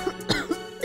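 Cough coming from inside a house, a few short harsh bursts close together, heard alone with no talk.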